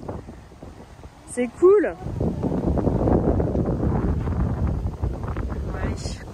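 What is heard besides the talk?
wind blowing on microphone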